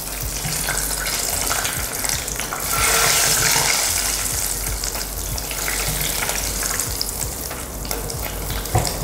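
Peanuts frying in hot oil with steady loud sizzling, spoon stirring and draining clatter continuing throughout, close up.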